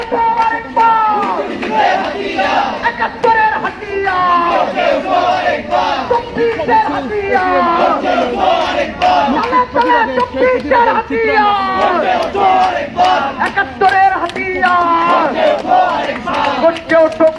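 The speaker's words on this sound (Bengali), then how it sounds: "বামপন্থী যারা রয়েছে তারা জামাত শিবির রাজাকার সহ নানান রকম স্লোগান দিয়ে তারা অগ্রসর হচ্ছে" A large protest march of left-wing demonstrators at Dhaka University chants political slogans in loud, rhythmic unison, voices rising and falling in repeated call-and-response phrases over continuous crowd noise.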